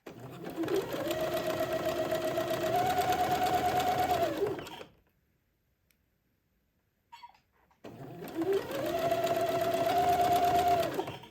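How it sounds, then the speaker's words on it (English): A sewing machine zigzag-stitches lace to entredeux in two steady whirring bursts of about four seconds each, separated by a brief near-silent pause. "Zigzag a piece of lace to entredot, and then trim another piece of entredot and sew that on."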